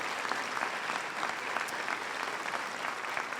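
A high school auditorium audience applauds the ten members of the AP Capstone program during a senior assembly, with sustained, even clapping from a large crowd filling the whole stretch.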